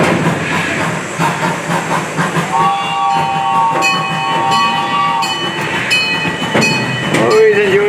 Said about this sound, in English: Always enjoy the train ride.